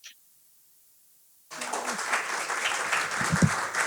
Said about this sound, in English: are you hearing that rapturous applause?